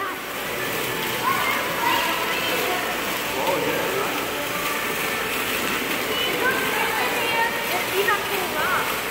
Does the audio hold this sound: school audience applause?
no